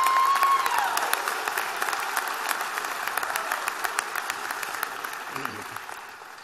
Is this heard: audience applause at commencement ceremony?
yes